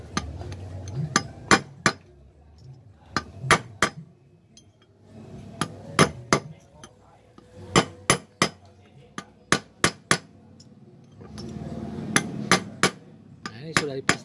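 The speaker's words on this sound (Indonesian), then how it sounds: "Kita ketok sedikit lagi." A hammer taps a front wheel bearing into place on a 1985 Daihatsu Charade: sharp, close metallic blows in short bursts of two to four, separated by brief pauses, with faint workshop noise between them.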